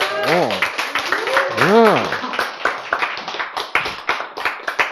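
A voice speaks while hands clap repeatedly in a quick irregular series of sharp, close slaps that grow denser toward the end.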